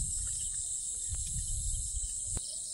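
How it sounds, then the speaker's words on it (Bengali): Night crickets in a hushed village darkness, their high steady trill droning without pause, accompanied by a few faint low bumps and rustles close by. "চারিদিকে ঝিঝি পোকার ডাক"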